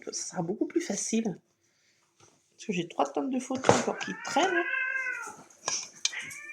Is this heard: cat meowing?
yes